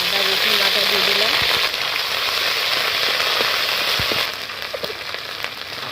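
Ginger garlic paste goes into hot oil with cardamom, cinnamon, cumin seeds and bay leaves for a jackfruit prawn kofta curry, giving a loud, close, dense sizzle that eases somewhat toward the end, with a few clinks and no speech.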